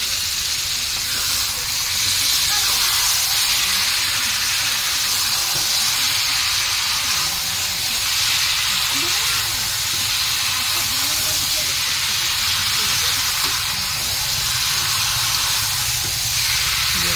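Potatoes, eggplant and drumsticks cooking in a pan for a fish curry, giving off a constant strong hiss and steamy sizzle with soft intermittent stirring scrapes, steady for the whole stretch.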